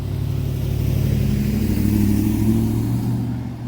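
Car engines hum steadily on residential community roads in a gated retirement community, a low continuous drone of passing vehicles that swells slightly midway and fades toward the end, with no voices.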